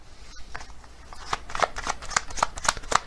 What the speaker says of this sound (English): I'm going to get another card from this deck